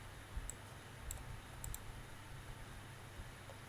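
Several sharp mouse clicks on a desk, spaced irregularly and fairly faint over a low steady background hum.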